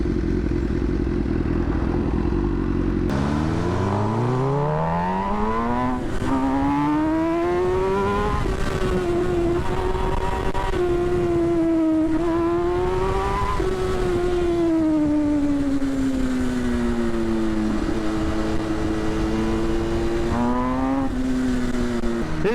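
An MV Agusta Brutale 1000RR motorcycle engine rises from idle through a long run of strong revs, its pitch sweeping up and holding high with small dips and swells, loud and close throughout.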